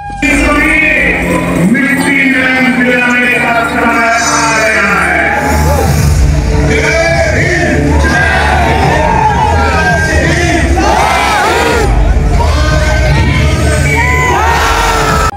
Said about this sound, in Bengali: রাত 1টার সময় ভিড়টা একবার দেখো।